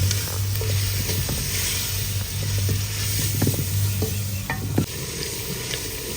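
Spices sizzling and frying in hot oil in a pot over a village cooking fire, a steady close crackle with occasional stirring clinks and scrapes, no talking.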